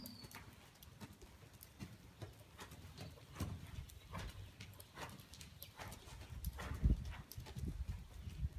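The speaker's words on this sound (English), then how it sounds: "So we're going to gait around a whole nother time after this" Hooves of Bandit, a gaited horse being schooled under saddle, patter in a steady gaited rhythm over low background noise, with occasional birds chirping nearby.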